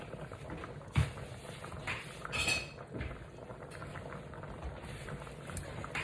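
Fish laid into a pan of simmering sauce with capers and sun-dried tomatoes gives a steady close bubbling sizzle, with a clink of utensil against the pan and a brief louder hiss of frying near the start, with no talking.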